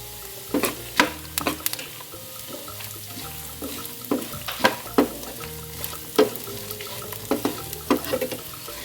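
Cumin seeds and asafoetida tempering in hot oil for Tamil lemon rice, with a steady sizzle broken by repeated sharp clinks and scrapes of a spoon stirring in the pan; nobody speaks.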